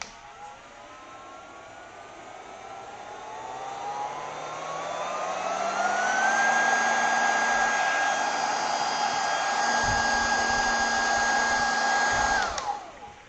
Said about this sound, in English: They're like keyboard vacuum cleaners. Listen, it sounds like a jet engine when you're starting it up.